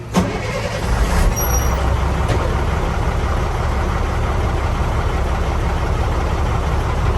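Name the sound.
tractor-trailer truck engine starting and idling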